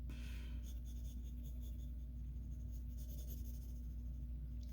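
A pencil scratches steadily across paper in continuous short strokes, drawing the hair of a Goku cartoon figure, close and even under a constant low hum.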